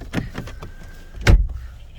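Mercedes-Benz car door slammed shut with a single firm thud, preceded by faint rustling and small clicks in the car interior, close, no talk.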